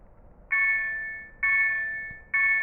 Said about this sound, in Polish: O, dzwoni dzwonek kolejowy.